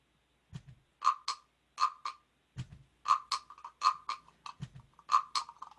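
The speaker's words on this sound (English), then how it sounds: "I'm going to employ the assistance of my little froggy here, this little red frog percussion-y thing." A small red frog-shaped percussion instrument, scraped and tapped in quick double and triple strokes that form a ratcheting, croak-like rhythm. It sounds close and clear, with a few soft low thumps near the start.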